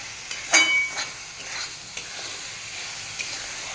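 Carrot halwa with dry fruits stirred in a pan, a soft low sizzle with a few sharp scrapes and clinks of the spoon, quiet and without speech.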